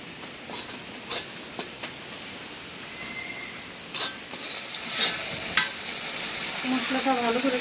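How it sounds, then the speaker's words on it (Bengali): Ground spice masala of turmeric, chili and coriander powders being fried and stirred in a pan, with irregular scraping strokes and clinks over a soft background hiss, growing busier toward the end and carrying no talk. "মশলাটা ভালো করে কষে নিলাম।"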